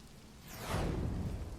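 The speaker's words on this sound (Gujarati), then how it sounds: "ભારે પવન ફૂંકાવાની સાથે જ વરસાદ વરસ્યો" Unseasonal rain driven by strong wind: a steady broadband rush that swells louder about halfway through and stays heavy, with no voices.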